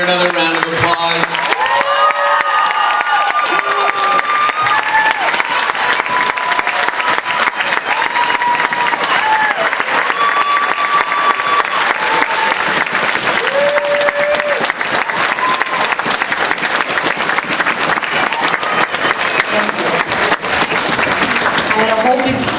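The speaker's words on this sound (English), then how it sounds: "So let's give her another round of applause." Sustained applause fills a high school auditorium after a Little Shop of Horrors performance, dense clapping from a large crowd with scattered cheers and voices rising through it, holding strong for over twenty seconds.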